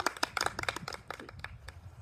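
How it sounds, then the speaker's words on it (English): A small campfire-singalong group at New Brighton State Beach claps briefly, with close, uneven hand claps that quickly taper off. "give yourselves a round of applause"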